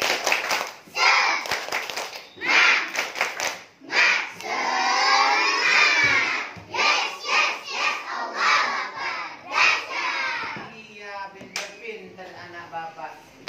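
A third-grade class of children do the Indonesian 'tepuk semangat' chant, loudly in unison with rhythmic hand claps, shouting and cheering together in a lively, echoing classroom.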